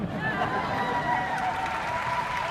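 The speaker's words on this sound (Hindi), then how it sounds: "अगर आपको अच्छा लगे तो प्लीज ताली मार देना" Studio audience at a comedy talk show claps in a steady, dense wash of applause with faint crowd murmur, continuous and fairly loud throughout.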